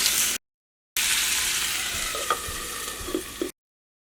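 Papaya curry sizzles and fries in a pan while being stirred, a steady close hiss with a few soft scraping knocks from the spoon, cut off by brief silences.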